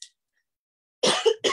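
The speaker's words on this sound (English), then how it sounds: "I get a coughing fit every time I go on." A coughing fit: a short cough at the start, a pause of silence, then two harsh, close throat-clearing coughs in quick succession.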